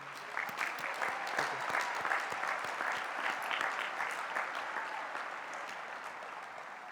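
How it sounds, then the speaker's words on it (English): A large graduation crowd at a high school ceremony applauds teachers and staff, a broad, even wash of clapping heard from some distance at moderate volume, holding steady for several seconds before easing slightly. "So can I please get a round of applause for them?"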